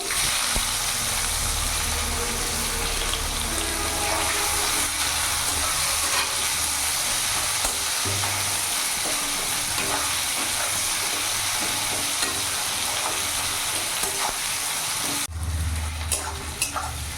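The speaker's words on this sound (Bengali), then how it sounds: "পেঁয়াজটা আমি এখন কিছুক্ষণ ধরে ভেজে নেব।" Chopped onions fry in a pan over a medium gas flame for a mutton curry, giving a steady, loud sizzling hiss throughout with a few faint stirring scrapes and no talking.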